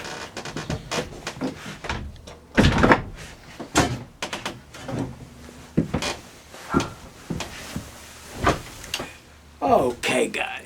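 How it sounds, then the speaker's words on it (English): A door closes indoors with a solid thump amid scattered clatter and bumps, several sharp knocks spread across the stretch, with no talking. "I'm going to close the door."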